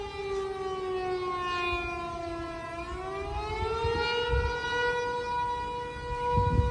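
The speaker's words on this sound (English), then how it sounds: "what we're hearing right now is the emergency warning siren in Hue" Emergency warning siren wailing in Hue during floods, a single long rising and falling tone sounding loud and steady over faint background noise.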